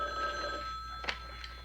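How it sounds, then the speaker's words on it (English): An old landline telephone bell rings steadily in a quiet room, a bright trilling ring that stops before a short click, with no talk over it. "Why don't you get the phone?"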